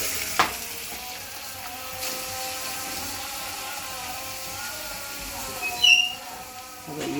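Onions fry in a pan with a steady, close sizzle and hiss. There are occasional stirring clinks and a brief scrape near the end.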